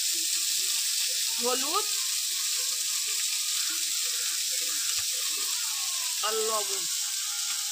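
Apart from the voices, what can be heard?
prawns frying in oil with turmeric and salt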